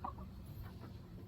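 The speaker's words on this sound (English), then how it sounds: "these guineas are not the most good-looking birds" Guinea fowl give a few faint, distant clucking calls on a farm over a quiet background, and no one talks.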